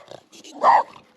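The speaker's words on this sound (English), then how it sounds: "No barking." A dog lets out a single short bark, close and moderately loud, framed by small whimpers and snuffles before and after.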